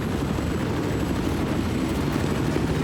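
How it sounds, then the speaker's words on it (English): A helicopter flies in during a Battlefield 4 match, giving a steady, dense rotor and engine roar that stays constant and fairly loud throughout, with no talk. "Helicopter coming in."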